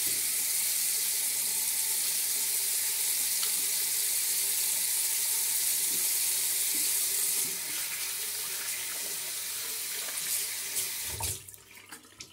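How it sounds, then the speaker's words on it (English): At a bathroom sink after shaving, a running faucet pours steadily while water splashes as a face is rinsed; the flow is close and constant, then cuts off near the end, leaving a few faint drips. "I'm gonna rinse up my face and feel for any stubble left."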